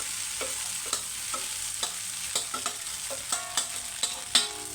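Cooked rice being stirred into lemon rice seasoning in a pan after the stove is switched off, with repeated soft scraping clicks of the spoon against the pan over a faint background sizzle.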